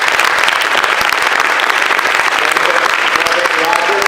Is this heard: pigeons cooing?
no